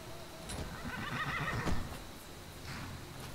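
A horse in the video game Skyrim whinnies loudly after being called, with a few hoof clip-clops around it and no talk.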